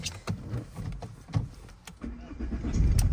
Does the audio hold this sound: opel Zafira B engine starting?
yes